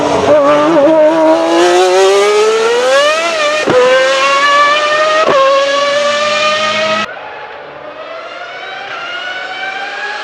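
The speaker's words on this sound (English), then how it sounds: "the CBX with its 6 cylinders properly sounds like half of a low displacement F1 V12 engine" A Honda CBX 1000 six-cylinder motorcycle revs hard, its high, smooth wail climbing through several gear changes, then drops to a quieter, more distant steady pull.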